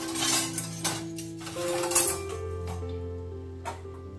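Dishes and cups clink and clatter as they are put away in a home kitchen, a run of light knocks and ringing taps, close and fairly soft, with no talking.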